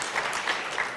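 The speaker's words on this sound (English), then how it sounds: "Now I wanted a little bit of applause" A lecture audience breaks into a brief burst of applause, with clapping dense and fairly close and lasting only about a second.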